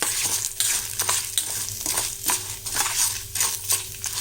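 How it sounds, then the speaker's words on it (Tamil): Dry red chillies and urad dal roasting in a pan, with a steady dry crackle and repeated scraping strokes of a spoon or spatula at a regular rhythm, close and moderately loud. "இதில் நான் ஒரு 4 வரமிளகாய் போட்டுக்கிறேன்"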